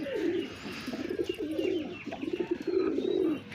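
Domestic pigeons, including a red pigeon, coo close by in repeated low, throaty, rolling phrases, with faint background noise and no talking.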